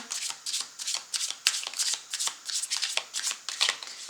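Tarot cards are riffled and shuffled close up in quick, crisp bursts of papery flicking that repeat steadily for several seconds.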